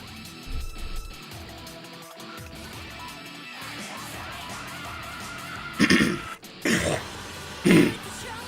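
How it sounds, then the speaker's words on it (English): Someone coughs and clears their throat into a live microphone during PS2 gameplay, a few short, loud bursts near the end over a faint background of game sound. "I suppose I wasn't coughing that much."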